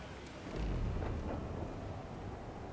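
Distant thunder rumbles low and muffled through a stormy sea in Assassin's Creed IV: Black Flag, swelling once into a soft roll over a quiet wash of rain-like noise.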